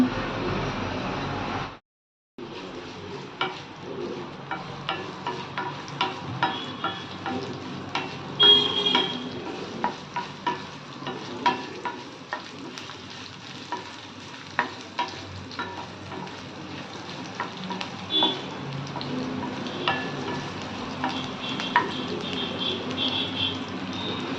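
Mustard seeds, dried red chillies, coriander seeds and crushed garlic crackle and sizzle in hot oil for a tempering, a dense continuous fizz dotted with sharp pops and stirring scrapes, broken by one brief silent gap near the start.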